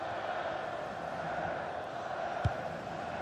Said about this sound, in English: Well, just listen to the crowd. They want a bit more.